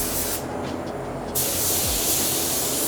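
A Fujispray V8 spray gun lays down a metallic base coat in a loud, continuous close hiss of spraying, with a brief shift in tone partway through before the spray resumes steadily.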